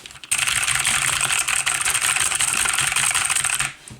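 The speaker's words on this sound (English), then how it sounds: "Yes, for those who like clicky keyboards." Rapid, crisp clicking of mechanical keyboard keys, close and loud, a continuous run of typing that stops abruptly near the end.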